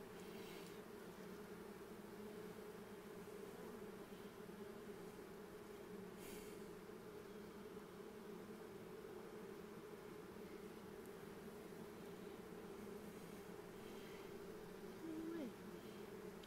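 Bees hum in a continuous, even drone inside an open hive as a new bee emerges from its cell, a steady faint buzz with no talk.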